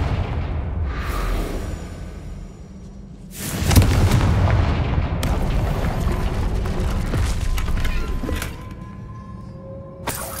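Confringo blasting spell in the Hogwarts Legacy video game: a loud booming explosion bursts out after a quieter stretch, followed by a sustained crackling rumble and a sharp final crack near the end, with no talk.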